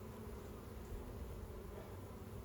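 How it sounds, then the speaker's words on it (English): Honeybees buzzing around a beehive, a dense, steady, faint drone of many insects with no breaks. "this is a lot of bees"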